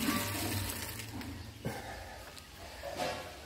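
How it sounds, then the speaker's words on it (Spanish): Water runs from an outdoor tap, a steady hissing flow with slight splashing, close by and moderately loud over a few seconds, without speech. "Todas estas llaves tienen agua, miren muchachos."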